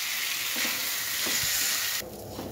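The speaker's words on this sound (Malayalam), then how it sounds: "അരി ഇതിനകത്തേക്കിട്ട് വറുത്തെടുക്കാം" Rice frying in a tablespoon of ghee in a pan for fish biryani, a loud continuous sizzle with a few soft stirring scrapes, dropping to a quieter hiss for the last half second.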